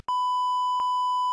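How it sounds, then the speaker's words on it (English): A steady censor bleep: a pure electronic tone covering swearing during gameplay commentary, holding loud and unbroken for over a second with two faint clicks where the swear edits meet. "That's getting beeped for sure."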